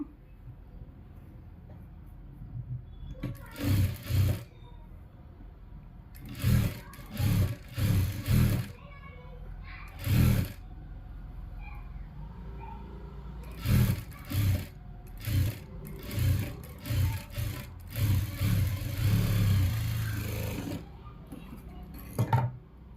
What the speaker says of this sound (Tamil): இப்போ வந்துட்டு ரெண்டு தையல் போட்டு எடுத்துக்கலாம்